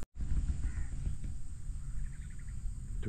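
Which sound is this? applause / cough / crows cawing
crows cawing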